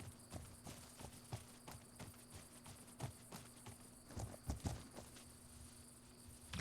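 Horse hooves walking over rough ground in the video game The Legend of Khiimori, a steady, moderately close clip-clop with a few heavier thuds, set against a faint insect-like hum and a low steady tone.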